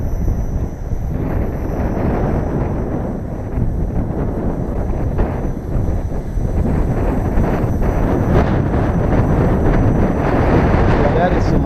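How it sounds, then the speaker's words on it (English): Strong, ripping wind roars continuously at night, a dense low rumble buffeting the microphone at a steady, loud level from start to finish. "that is some ripping wind"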